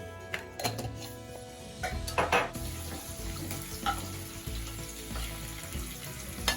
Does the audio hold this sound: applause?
no